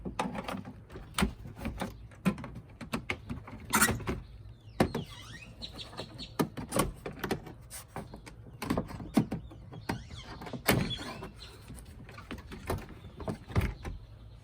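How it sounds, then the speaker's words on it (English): Plastic clips pried off the top cowl of an Acura TL make repeated close clicks, snaps and scraping plastic sounds at irregular intervals, with no speech. "Remove these clips, 1, 2, 3, and 4."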